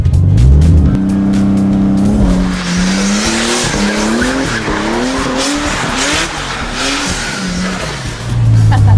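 A car drifting during practice, its engine revving hard and loud as the tires squeal in long wavering shrieks that rise and fall in pitch, close and continuous throughout with no voices over it.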